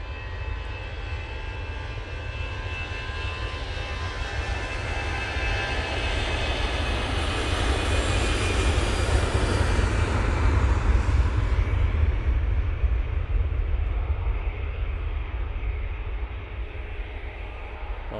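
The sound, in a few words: Airbus A320-200 arriving from Oslo, snowy Manchester Airport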